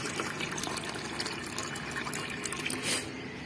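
Water rushes steadily into the inlet tank of a Supreme solar water heater, fed from three overhead tanks with the flow turned low, a continuous close splashing hiss with no voices.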